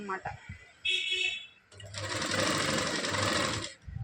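A sewing machine fitted with a single presser foot stitches a blouse neck for embroidery work, starting with a short burst, pausing, then running in a loud continuous close-up whir with a brief tone heard before the long run.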